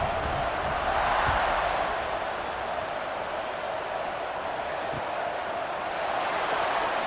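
A stadium crowd in College Football 26 keeps up a steady, broad roar at kickoff, loud and continuous like distant rushing noise, with a few faint thumps underneath.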